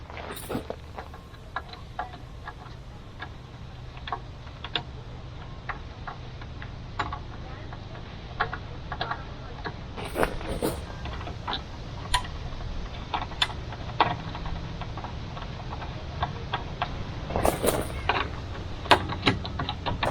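Screws are started into a Jeep Gladiator headlight assembly, heard as scattered small ticks and clicks from hand tools and parts over a low steady background, with no talking.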